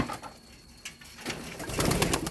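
Hungry pigeons cooing close by in a loft, soft repeated low coos with light rustling and a few brighter calls, no talking.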